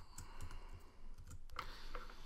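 Fingers type a message on a computer keyboard, producing quiet, rapid clicking keystrokes close by with no talk.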